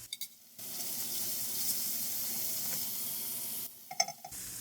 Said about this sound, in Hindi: टमाटर को गलने तक हम इसको भून लेंगे।